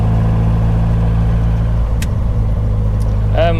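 A 1978 MG Midget driving at 70 miles per hour, its engine and road noise a loud, steady drone, with a brief voice near the end.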